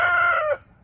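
A rooster crows once, loud and close, a single sustained call that cuts off abruptly into near silence.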